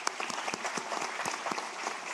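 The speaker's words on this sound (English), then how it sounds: "Let's give a round of applause for the Reynosa Mayor" An audience at a State of the City 2023 gathering claps for the Reynosa mayor, giving a brief burst of scattered, moderately distant applause with sharp individual claps standing out.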